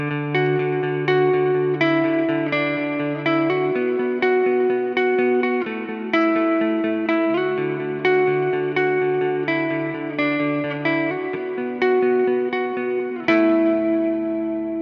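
Clean electric guitar through a NeuralDSP Mesa Boogie Mark IIC+ plays a steady rhythmic pattern of picked notes, drenched in delay and reverb that leave lush echoing tails, with no talking.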